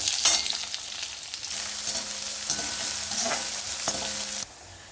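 Onions hit hot oil already crackling with mustard seeds and lentils for a snake gourd curry, giving a bright, steady sizzle broken by the scrape and clatter of a stirring spoon before the sound drops away near the end.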